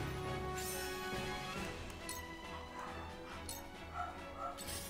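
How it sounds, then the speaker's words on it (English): Dogs bark and yip in the strategy video game Triangle Strategy, with whimpering mixed in among game music and effects. The barking is repeated and fairly dense throughout, at a moderate level. "I'm just gonna let the dogs bark."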